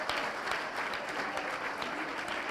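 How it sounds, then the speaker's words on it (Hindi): A welcoming round of applause from a crowd at a Jain Chaturmas Pravesh ceremony in Andheri West, Mumbai, many hands clapping steadily and evenly, heard somewhat distant and moderately soft, with no talking. "जोरदार ताली से स्वागत कीजिए।"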